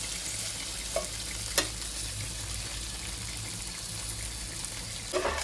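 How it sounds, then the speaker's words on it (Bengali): Okra and green chillies fry in a pan with a dense, steady hiss, broken by a few sharp scrapes of stirring; no voices over the continuous sizzle. "আবার একটু ফ্রাই করে মানে ভালো করে নাড়িয়ে চাড়িয়ে নেবো"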